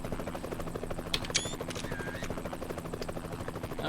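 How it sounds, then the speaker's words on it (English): A helicopter buzzes steadily in the background of American Truck Simulator near the Grand Canyon, its rotor pulsing in a fast even rhythm with a few brief higher chirps and tones over it. "hear the chopper just buzzing away in the background"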